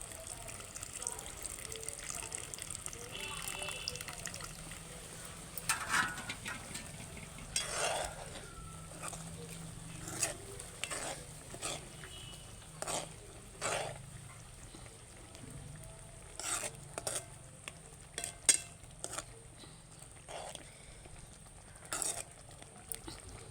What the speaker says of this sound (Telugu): చింతపండు తీసుకు పెట్టుకున్నాం పులుసు వేస్తున్నాను చింతపండు పులుసు